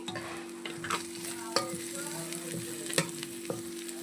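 Chicken and onions frying in a pan with coriander powder and garam masala, a steady close sizzle broken by several sharp clinks and scrapes of a spoon stirring.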